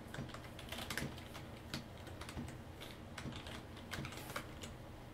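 Rapid clicking keystrokes on a computer keyboard while C++ code is typed, irregular taps and occasional louder key strikes close by over a faint background hum.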